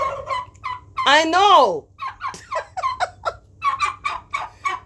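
Turkeys gobble close by, one long loud warbling gobble followed by a run of quick, choppy calls, with a voice speaking briefly.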